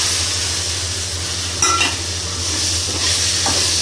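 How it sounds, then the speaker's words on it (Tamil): Tomatoes dropped into hot oil in a pan for a bottle gourd sabzi, a steady close sizzle with a brief clatter and stirring scrape partway through. "ஸோ இப்போ வந்து டொமேட்டோ ஆட் பண்ண போகிறேன்."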